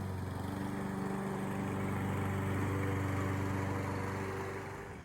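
A Toro Personal Pace self-propelled lawn mower runs steadily at a constant engine drone, close and loud for the whole stretch, easing off slightly at the very end.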